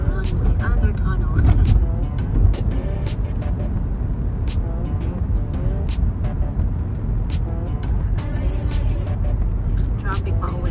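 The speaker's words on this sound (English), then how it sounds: "So we're driving under the runway. We're in the runway under tunnel." A car drives through the tunnel beneath a runway at LAX, giving a steady, loud enclosed road roar with traffic rumbling past, while people talk throughout.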